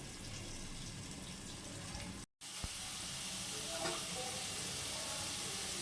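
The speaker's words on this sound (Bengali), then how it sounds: "ভেজে নেব যাতে আলুটা সিদ্ধ হয়।" Steady sizzle of potatoes frying in oil in a pan, interrupted by a brief silent cut, then the crackling hiss continues with occasional clinks; no speech.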